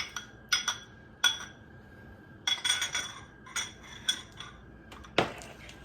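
A fork clinks sharply against a glass bowl while whisking melted coconut oil into four eggs, a quick irregular series of bright taps and rattles, close and clear with no talk.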